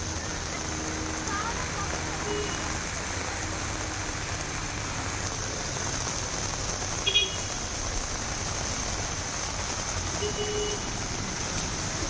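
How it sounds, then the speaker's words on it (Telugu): Heavy rain pouring steadily in Huzurabad, Karimnagar district, Telangana, a dense continuous hiss of downpour with a brief clatter midway and no voices. "కరీంనగర్ జిల్లా హుజూరాబాద్ డివిజన్లో భారీ వర్షం కురిసింది"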